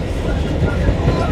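Heritage railway locomotive train running near Warsaw, Poland, a steady close rumble of rolling wheels and carriage noise filling the short moment without any break.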